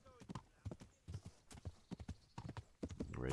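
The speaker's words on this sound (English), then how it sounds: "That's definitely Han's horse." A horse's hooves clip-clop at a walking pace in Kingdom Come: Deliverance, a close, regular run of hollow thuds with a brief whinny near the start.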